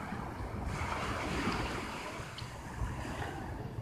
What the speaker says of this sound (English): I thought we should go ahead and walk out on the Jupiter Inlet